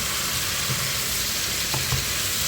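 Zucchini frying in a pan with chicken, a steady, even sizzle close up with a couple of faint stirring scrapes, no talking.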